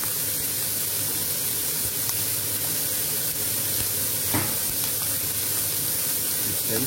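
Mushrooms, onions and parsley fry in a pan with a steady, dense sizzle and hiss, close and even throughout, broken only by a faint clink or two.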